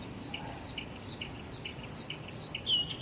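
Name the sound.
loud bird calling from a chimney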